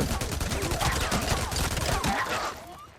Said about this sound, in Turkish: Minigun gibi sıkıyor maşallah